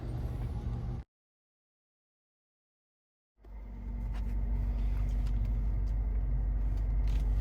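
A heavy truck rumbles loudly past on a road, a deep steady drone that swells in after a brief silent gap and holds strong to the end.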